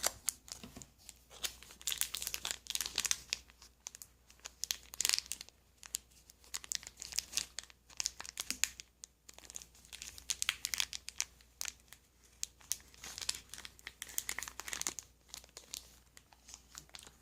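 A Magic Origins booster pack wrapper crinkles as it is torn open, bursts of crisp plastic crackling and tearing coming in irregular clusters close up against a quiet background.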